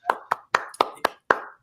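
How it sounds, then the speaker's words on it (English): Steve claps his hands for an interview guest, six crisp separate claps close to the microphone in a slightly uneven rhythm, with silence between them. "Steve normally doesn't clap for guests"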